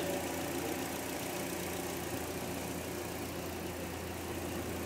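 A Toyota Corolla engine idles steadily nearby, a constant low rumble with a faint mechanical rattle and no voices.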